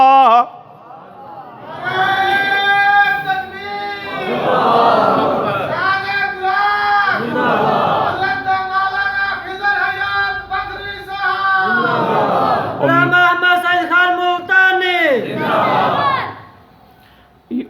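Mosque congregation during a sermon in Khanewal bursts into loud rhythmic religious slogan chanting, several waves of massed voices rising and falling close by, with brief pauses between calls.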